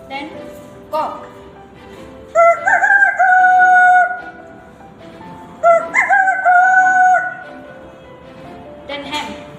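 A schoolgirl mimics a rooster's crow, giving two long, loud cock-a-doodle-doo calls, each rising and holding before trailing off, with short vocal sounds before and between them.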